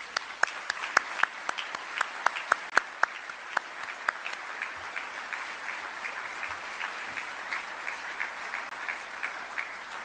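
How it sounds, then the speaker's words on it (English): An audience at a military change of command ceremony applauds service members, steady dense clapping in a large space with a few sharp nearby claps early on, lasting about ten seconds. "please join me in a round of applause for the men and women of"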